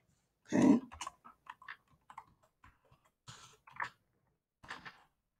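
A computer keyboard being typed on, heard as a quick, irregular run of light clicks and taps, close and fairly quiet, after one louder thump at the start.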